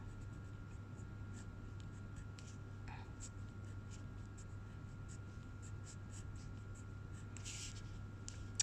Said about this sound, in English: so I'm just going to write